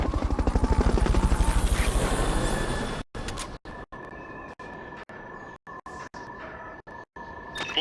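A Fulton recovery helicopter in the Metal Gear video game beats with loud, rapid rotor pulses. The sound then cuts to a lower, steady engine drone broken by repeated brief dropouts.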